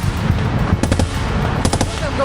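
Automatic gunfire in bursts during close trench combat between Ukrainian and Russian soldiers, several rapid clusters of shots crackling over constant background noise, with voices faintly present.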